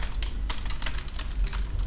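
Rapid, uneven clacks of a computer keyboard as a network switch command is typed, with close, crisp keystrokes and no talking.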